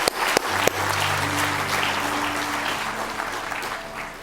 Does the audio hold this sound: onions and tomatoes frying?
no